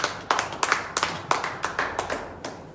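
A church congregation claps for God in an even series of about a dozen sharp, rhythmic claps, moderately close, with a roomy ring after each.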